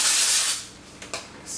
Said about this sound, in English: that's when you pull your dry shampoo and you just spray underneath.